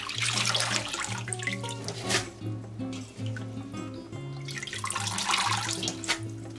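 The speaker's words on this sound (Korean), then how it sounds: "미역은 물에 3번 정도 헹궈주고" Seaweed is rinsed in water for seaweed soup with pollack, making steady close splashing and sloshing that continues throughout with no talking.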